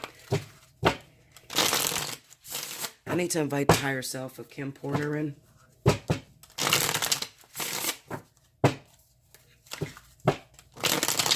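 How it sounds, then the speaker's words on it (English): A deck of tarot cards is shuffled in repeated quick bursts of riffling and slapping, close and crisp, while a person talks between and over the shuffles. "I'm going to shuffle these cards up a little bit"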